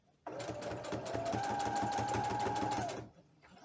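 Sewing machine stitching shorts fabric, one continuous burst of fast, even needle clatter with a faint motor whine, close and clear, starting and stopping abruptly.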